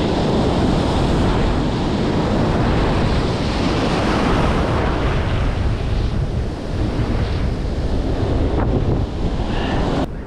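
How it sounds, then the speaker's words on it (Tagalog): Large waves surge and crash around a small fishing boat at sea during a typhoon, a loud roaring wash of water mixed with heavy wind buffeting the microphone throughout. "Laki ng alon na to."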